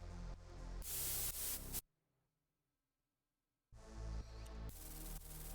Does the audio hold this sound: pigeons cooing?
no